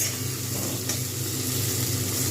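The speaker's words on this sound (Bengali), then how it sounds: "এটা আমি কিন্তু ভালো করে লাল করে ভেজে নেবো পেঁয়াজগুলো" Onions fry in oil in a pan for a potato chicken curry, a continuous close hiss and sizzle over a low hum, with no talking.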